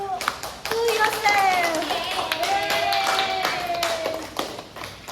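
Classroom applause, a short burst of clapping from a group of students, close and fairly loud, with talking and children's voices mixed in throughout.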